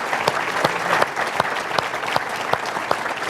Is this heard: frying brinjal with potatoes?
no